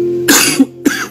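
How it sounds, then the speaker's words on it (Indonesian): Two close, loud coughs from a man giving a tax lecture, a harsh burst followed by a shorter second cough, with a faint tonal hum underneath. "Sorry, lagi batuk-batuk nih."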